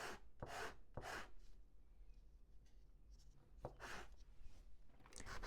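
Hand sanding of small wooden pieces, heard as a few rasping back-and-forth strokes close by, separated by quiet pauses with no talk.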